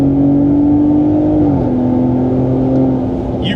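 A Ram truck fitted with an AWE exhaust accelerates at wide open throttle, giving a loud, sustained engine roar with a rising then shifting drone that stays steady and close throughout.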